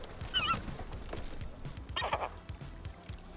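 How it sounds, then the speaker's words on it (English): Seagull calls in a Liberty Mutual car insurance commercial: two bursts of squawking cries, around half a second and two seconds in, over a low rumbling background with intermittent thumps. "What happens in this one? Seagulls."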